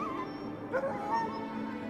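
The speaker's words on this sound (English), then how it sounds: "The howling and barking of the dogs was the only break in the black, icy silence that surrounded us" Sled dogs on an Arctic expedition give a short whimpering, yipping whine, fairly faint against a quiet background, lasting only a moment.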